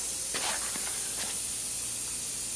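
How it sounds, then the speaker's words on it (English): A carpet cleaner's jet fitted with a #1 tip sprays in a constant flow, producing a steady, fairly faint hiss with a few soft bursts of spray texture on top. "Jet still spraying, #1 tip, constant flow."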